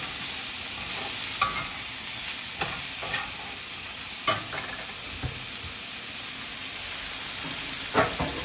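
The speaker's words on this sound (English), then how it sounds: "Stir it around a little bit." Onions frying in a pan while being stirred, a constant soft sizzle and hiss with occasional scrapes and clicks of the utensil, no voices.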